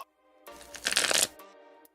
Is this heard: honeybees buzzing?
no